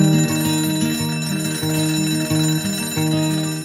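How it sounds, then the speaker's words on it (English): An alarm clock bell rings loudly and continuously with a rapid metallic trill, pulsing in short repeated bursts close by, with no voices. "coming awake to an alarm bell with a sudden start is not the best way to do your life"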